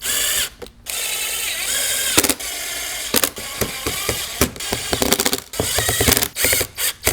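A power driver whirs in short, loud bursts with ratcheting clicks as Phillips head screws go in around the bezel to mount a speaker template in a Jeep Wrangler JL door, with brief pauses between the screws.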